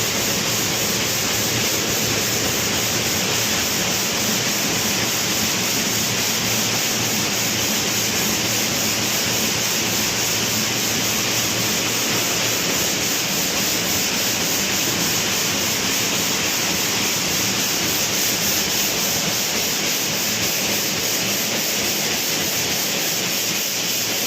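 Water pouring out of a marble block cutting machine, a loud unbroken rushing roar like a waterfall that holds steady throughout, with no pauses.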